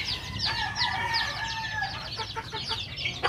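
Young chicks hatched in an incubator in a backyard setting give repeated high, thin peeping calls close by, several birds overlapping over a low background murmur.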